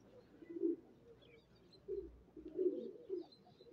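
Racer pigeons circling near a home loft give soft, low cooing calls in a few short separate phrases, faint and fairly close, with no talk over them.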